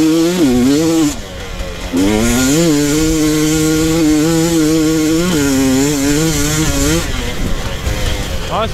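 A 2022 GasGas EC 300 two-stroke dirt bike engine revs up close and loud, its buzzing, raspy note rising and falling through repeated throttle blips with a brief dip, then a steady high drone, out on the riding terrain.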